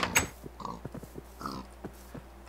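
A Minecraft pig gives a few short, soft oinks amid faint game sounds during a hardcore survival session.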